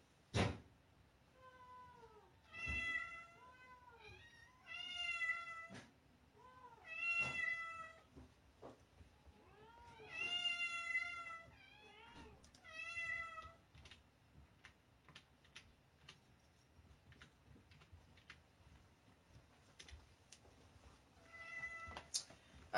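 A house cat meows repeatedly at a bag, several drawn-out, rising and falling cries in clusters with pauses between, over quiet indoor clicking and tapping sounds.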